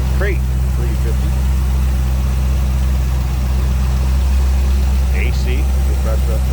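A crate 350 V8 engine in a 1947 Ford Deluxe Coupe street rod idles close by with a loud, steady low rumble, and a voice briefly speaks over it.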